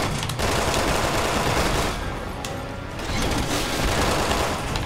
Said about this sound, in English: So I'm just gonna keep trying shooting him.